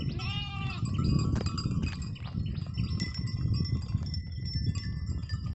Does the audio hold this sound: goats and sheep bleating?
yes